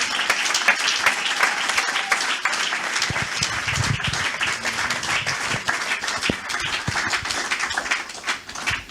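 A church congregation applauds, with sustained, dense clapping from many hands that fills the room at a steady level, with occasional shouts underneath.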